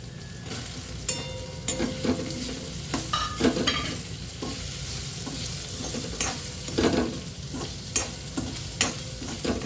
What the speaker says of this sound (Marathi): तर कारलं 1-5 मिनिट असं परतायचं.